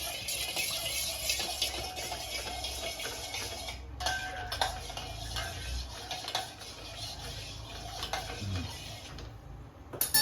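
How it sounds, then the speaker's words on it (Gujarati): A spoon stirs salt water heating in a pot on a gas stove, giving a run of small metallic clinks and taps against the pot over a steady background hiss, fairly close and without talk. "તો આપણે ચમચીથી ત્યાં થોડું હલાવી લઈશું"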